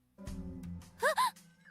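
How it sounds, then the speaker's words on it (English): A small gasp from a female character in the Umamusume horse-racing game, two quick breathy upward cries right after a low murmur, close and fairly loud within a short quiet stretch. "Oh, Mihona Bourbon just had a little gasp"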